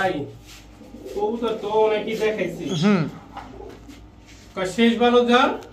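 Pigeons coo in short, rising and falling calls at a pigeon market where Pakistani Teddy and other fancy breeds are sold, with voices talking nearby.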